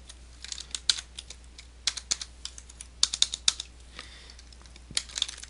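Rapid, uneven clicking of keys on a computer keyboard while typing HTML and CSS code, close and clear, in short bursts with brief pauses and no speech.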